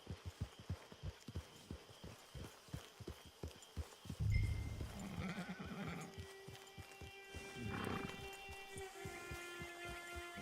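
Horse hooves clip-clop in a steady walking rhythm in Red Dead Redemption 2, close and clear, before a horse whinnies and the footfalls give way to other game sounds.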